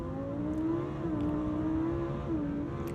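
A Lamborghini Huracan sports car revs hard in launch mode, a loud, steady engine drone holding a high pitch with small rises and dips, close by and without talk.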